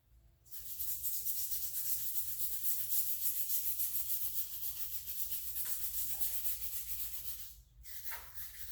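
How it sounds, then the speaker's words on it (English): A brass brush scrubbing cast aluminum engine parts soaked in kerosene, a loud continuous bristly scratching of rapid back-and-forth strokes, close up, stopping briefly near the end before resuming. "Let's take this brass and do it with a kerosene real quick and see if we can get it right back down to aluminum."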